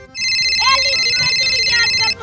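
A mobile phone ringtone plays loudly and steadily for about two seconds, a bright electronic melody, while a voice speaks briefly over it.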